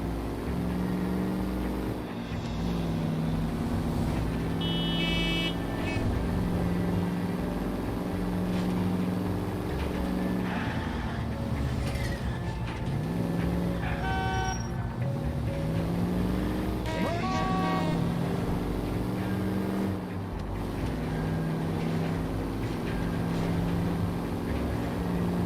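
Car driving in the video game L.A. Noire, a steady engine drone with shifting tonal whines and passing traffic sounds throughout, with no pauses.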